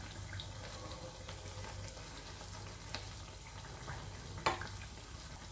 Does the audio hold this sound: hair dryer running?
no